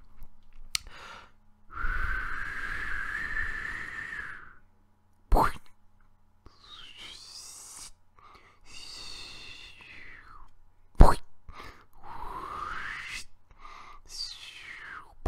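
A voice imitates a stick of butter dropping from a four-story building onto a trampoline, using whooshing breath, hisses and sharp clicks and pops, then springy, bouncing warbles that rise and fall.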